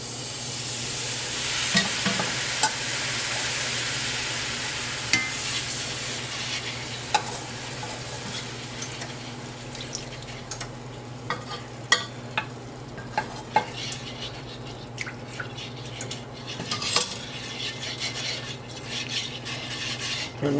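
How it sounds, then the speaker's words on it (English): Beef stock being whisked into cooked flour in a pan, giving a soft continuous sizzle and stir with scattered light metallic taps of the whisk against the pot. "and whisk it very well because it is going to be lumpy."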